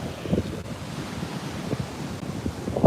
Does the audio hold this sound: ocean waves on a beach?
yes